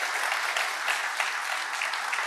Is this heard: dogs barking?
no